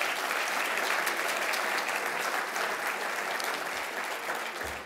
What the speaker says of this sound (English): Can I get a round of applause for Steve Scalise?